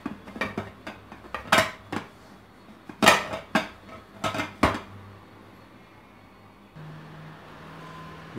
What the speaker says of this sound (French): Vous prenez une assiette et vous la retournez tout de suite du moment qu'elle est encore chaude